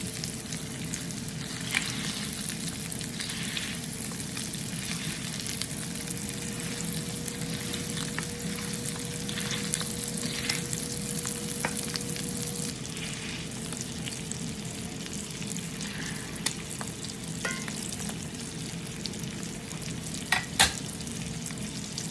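Roman sausage patties, pressed flat, fry in a pan with a steady, dense sizzle and crackle throughout, with a low hum beneath and a few sharper pops near the end.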